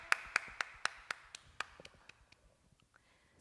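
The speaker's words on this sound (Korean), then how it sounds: "다 같이 하나님께 영광의 박수 올려드리겠습니다" Claps ring out in a church children's Sunday service, a handful of sharp, distinct claps at first that fade into softer scattered ones, quiet and fairly close, with no talking.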